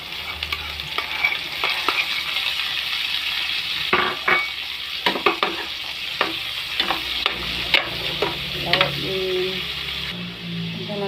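Bitter gourd (ampalaya) sautéing with pork in a pan hisses in a steady close sizzle, while a utensil knocks and scrapes the pan repeatedly in irregular strokes.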